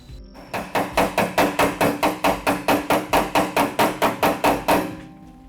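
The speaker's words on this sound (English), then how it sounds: "I'll take the clamps off and hammer and dolly this joint" Hammer and dolly work on a welded joint of a roadster body panel: about twenty close, loud metallic blows in a steady, even rhythm, with no talking.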